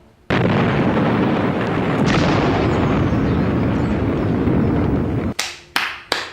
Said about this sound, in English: That's an amazing model explosion.